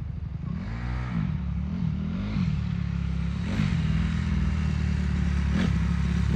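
A Honda motorcycle is ridden nearby, its engine droning loudly with a couple of rising and falling revs early on before settling into a steady, rough run; no one speaks.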